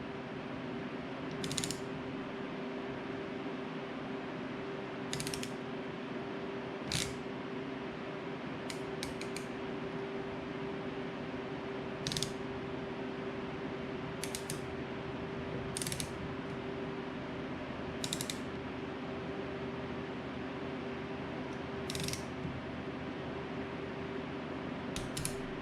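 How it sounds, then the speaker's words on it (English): The flywheel of a Yamaha YFZ 250F dual overhead cam engine is turned by hand toward its timing mark. Sharp, evenly spaced ratchet clicks repeat every few seconds over a steady low mechanical hum. "So now I gotta turn the flywheel until I get to my timing mark."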